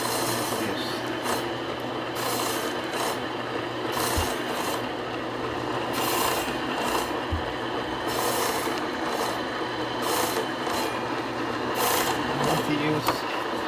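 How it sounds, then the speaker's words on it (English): Electric meat slicer cutting beef salami, a steady mechanical whir running throughout with a soft swish roughly every one to two seconds as each slice is cut, close and fairly loud. "this is our machine where we can slice the beef salami"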